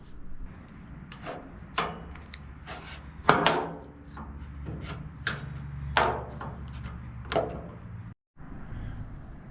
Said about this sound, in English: remove these 4 cap screws which secure this cover plate